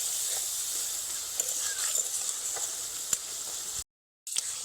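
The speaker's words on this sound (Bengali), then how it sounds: "দুই থেকে তিন মিনিট মশলার সঙ্গে ইলিশ মাছের মাথা ভালোভাবে কষিয়ে নেব" Hilsa fish head being fried with spices, a steady close sizzling hiss with a few sharp pops and spits, cut by a brief moment of silence near the end.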